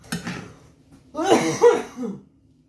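A person coughs a few times up close, short harsh bursts with a small gap, then falls quiet.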